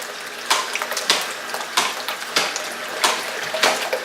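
Tap water runs into a container, a continuous hiss and splash broken by several sharp clinks and knocks at regular intervals, close and fairly loud.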